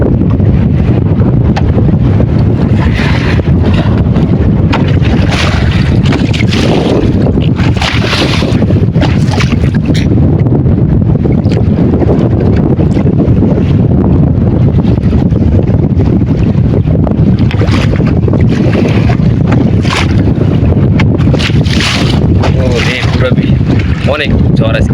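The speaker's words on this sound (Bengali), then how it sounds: "অনেক ঝড় আজকে।" Storm wind buffeting a fishing boat on a river during a Baishakh storm, a loud, constant roar of wind noise that never lets up, with gusts surging every few seconds.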